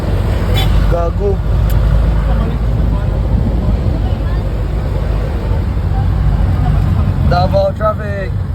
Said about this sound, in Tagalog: Davao traffic.